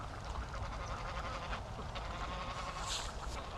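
Ducks quack by a creek on a small farm, a continuous murmur of calls against outdoor background noise.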